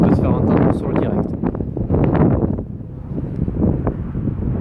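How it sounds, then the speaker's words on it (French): Strong wind gusts across a sunny mid-altitude hilltop with wind turbines in the Corbières massif, Aude, France, buffeting the microphone with a steady, loud low rumble that swells and dips throughout. "c'est pour ça qu'il y a un peu de vent qui peut se faire entendre sur le direct"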